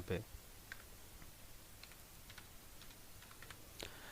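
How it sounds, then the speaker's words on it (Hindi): Light, scattered keystrokes on a computer keyboard in billing and inventory software work, faint single clicks spaced irregularly over a few seconds, with a faint voice in the background. "यहाँ पे कीबोर्ड हमने टाइप कर दिया"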